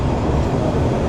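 A local train rumbles past Gendaria railway station in Bangladesh, a steady, loud low-frequency roar of rolling wheels and carriages with no talk over it.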